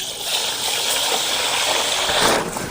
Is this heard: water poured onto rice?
yes